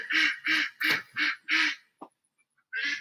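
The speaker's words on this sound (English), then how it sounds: "And now you can hear the ducks in the background." Ducks quack loudly in a rapid run of five calls, followed by a brief short note and a final quack after a pause, sounding close and alone.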